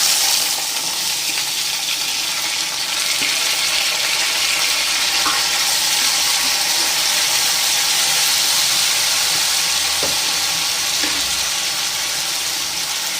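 Potatoes fry in hot oil in a pan for potato fry, a steady close broadband sizzle and hiss running evenly throughout with a few faint clicks of stirring.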